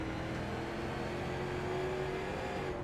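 A race car's engine on an onboard lap at Oxford holds a steady, restrained part-throttle drone with a constant hum, loud and close, without speech.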